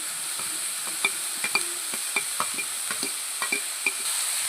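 Carrots go into a pan of salted onions already sautéing, and a spatula stirs them, giving a soft, even sizzle broken by a run of sharp, regular scrapes and taps against the pan, close and moderately quiet.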